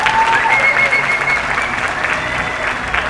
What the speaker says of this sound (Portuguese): Mais uma salva de palmas para os convidados de hoje.